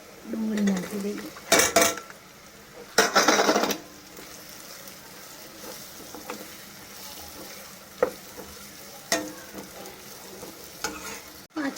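Onion stirred into a bitter gourd curry in a pan, spoon scrapes and clinks over a low sizzle, with a few sharp louder knocks early on.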